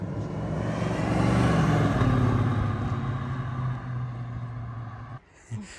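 A car engine runs steadily nearby with a deep droning note that swells slightly and fades, then drops away sharply near the end.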